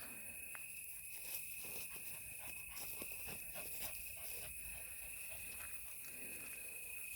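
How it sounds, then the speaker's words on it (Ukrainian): Crickets chirping in a steady high continuous drone at sunset outdoors, faint and distant, with soft scattered rustles and no talk. "Співають цвіркуни"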